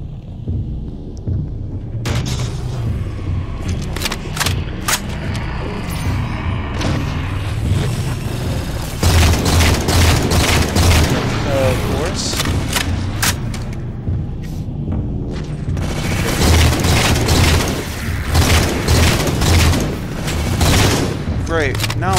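Rapid, dense gunfire from the Halo 4 video game, with bursts and booming shots repeating nearly nonstop and a player's voice talking over the action.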